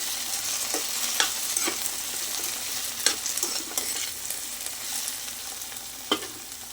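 Potatoes frying in a pan for a simple potato fry, a steady close sizzle with occasional scraping clicks of a spoon stirring them, no talking.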